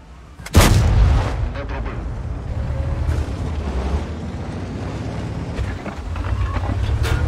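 Cannon of a P.43 ter tank firing in a video game: one sharp, heavy blast with a booming tail, followed by rumbling engine and track noise that carries on to the end.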